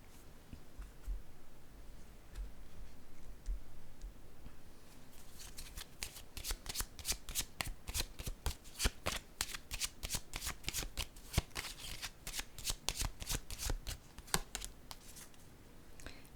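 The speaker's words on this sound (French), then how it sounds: "Je vais déposer une autre carte ici." Playing cards being shuffled and laid down one at a time, a faint rustle at first, then a long run of sharp, rapid riffling snaps close by, with no talking.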